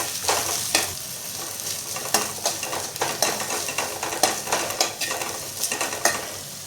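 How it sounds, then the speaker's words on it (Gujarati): Capsicum tossed in a hot pan with onion and carrot for chow mein, a continuous sizzle punctuated by rhythmic scraping and knocking of a spatula against the pan, close and fairly loud. "હવે નાખીશું આપણે શિમલા મિર્ચ."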